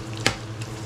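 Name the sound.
onions dropped into hot pan, frying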